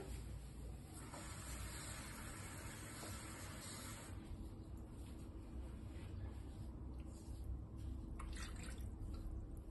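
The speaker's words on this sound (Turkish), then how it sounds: "ben tepsime su alacağım. Fırınlayacağım için biraz daha alabilirim." Water poured into a baking tray holding bowls of baked rice pudding, a continuous close splashing and trickling stream with a slight shift in tone partway through, steady and alone.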